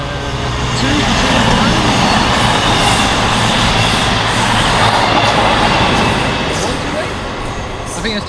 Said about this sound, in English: we have a cross-country Voyager running from